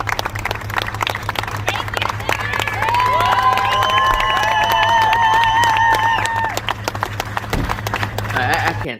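A crowd cheers and applauds loudly, with sustained clapping and shouting that swells in the middle and then continues more unevenly toward the end, as at a public celebration of a person.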